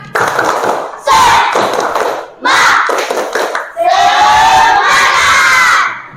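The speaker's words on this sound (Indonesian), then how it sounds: "Jadi, tepuk semangat." A classroom of schoolchildren doing a spirit clap, loud group shouts and claps in repeated bursts with short pauses between, voices chanting along.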